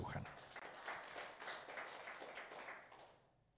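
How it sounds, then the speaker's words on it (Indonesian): Congregation applauding during a church worship service, a broad patter of many hands that swells and then fades out near the end, with some voice-like energy mixed in. "Berikan tepuk tangan bagi Tuhan"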